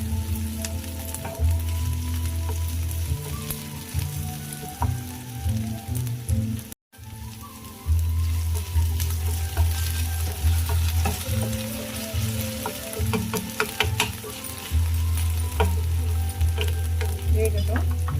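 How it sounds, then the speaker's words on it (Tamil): Cut potatoes sauté in a pan for a Spanish egg omelette, sizzling and crackling steadily with occasional stirring scrapes, close and loud, with one brief gap partway through. "கட் பண்ண வச்ச உருளைக்கிழங்க போடணும். போட்டு இந்த மாதிரி நல்லா வதக்குங்க."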